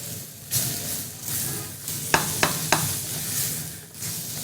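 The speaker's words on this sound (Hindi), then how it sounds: "वेजिटेबल्स को आपने सौटे करना है।" Vegetables for chicken fajita wraps sauté in a hot pan with a steady close sizzle, while a spatula stirring them gives three sharp scrapes and knocks in quick succession.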